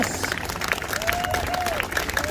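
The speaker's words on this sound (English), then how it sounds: "Clap, everyone, here we go." A crowd claps along at a live juggling show, a steady patter of hand claps with a few cheers, while a faint whistle-like tone rises and falls in the background.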